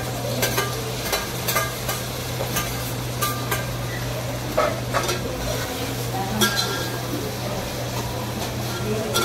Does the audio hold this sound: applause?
no